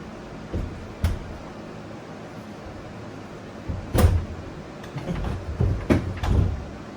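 A newly fitted bathroom door with reversed hinges is swung and bumped, giving a few sharp knocks and thuds at close range, spaced irregularly over a quiet room.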